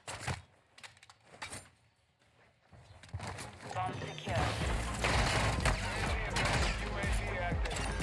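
Gunshots in a shooter video game, scattered sharp cracks at first, then a dense, louder stretch of sustained firing mixed with clatter and rumble, with voices talking over it.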